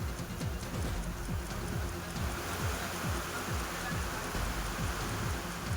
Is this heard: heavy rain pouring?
yes